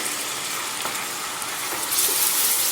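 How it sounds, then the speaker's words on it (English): Chopped onion sizzling and frying in a hot pan for an egg stew, a continuous close hissing crackle that swells slightly louder toward the end, with no talking. "So now that our onion has fried for a while"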